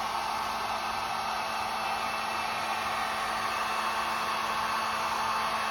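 A heat gun blows steadily onto pool noodle foam, melting and reshaping it; a constant close, even hiss-like roar holds unbroken throughout with no talking.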